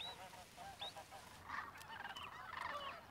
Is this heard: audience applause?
no